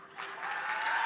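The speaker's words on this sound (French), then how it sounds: "on applaudit nos trois joueurs!" Studio audience applauding on a Quebec television game show, steady dense clapping that swells after a soft start and holds at full strength to the end, with no voices over it.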